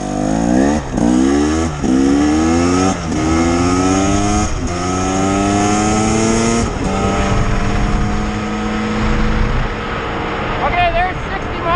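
A 2024 KTM 300 XCW TBI two-stroke dirt bike ridden as a dual sport accelerates hard down a road, its loud engine note climbing through repeated rising sweeps as it shifts up through the gears, with steady wind rush throughout.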